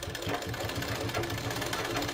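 Electric sewing machine stitching a blouse, its needle running in a fast steady mechanical rhythm with a low motor hum, close and continuous without talk.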